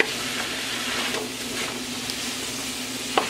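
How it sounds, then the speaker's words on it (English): Chicken chow mein with soy sauce sizzling steadily in a hot pan while being stirred, a constant frying hiss with soft scraping strokes and a sharp clink near the end, with no talk. "I'm gonna give it a quick stir again."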